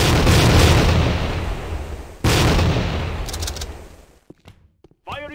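Grenade explosions in the Tactical Ops 3.5 video game: a loud, roaring blast that decays, then a second sharp detonation with a long rumbling tail, followed by a few sparse pops and a brief voice.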